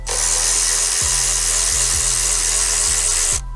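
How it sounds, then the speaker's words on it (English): A power tool whirs loudly and steadily while backing out 10 mm bolts from a car's electronic throttle body, its motor briefly dipping in pitch several times as the bolts bind and release. "Then the next thing you're going to do is just pop these 10 millimeter bolts out."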